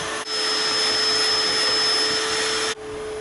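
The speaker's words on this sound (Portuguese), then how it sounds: "esse barulho que vocês estão ouvindo é porque aqui a gente aspira os carros" Vacuum cleaner running at a car wash while cars are vacuumed out, a loud steady whooshing roar with a constant whine that starts abruptly, holds evenly, then cuts off near the end.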